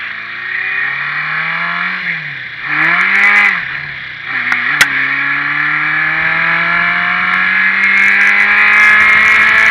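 A Honda CB550 motorcycle on a test ride, its engine pitch rising and falling through several revs and gear changes, loud and steady with a sharp click midway.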